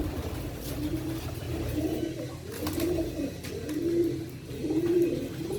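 Teddy pigeons coo in a rhythmic series of about five soft, rolling coos, close and clear over a faint background hum of traffic.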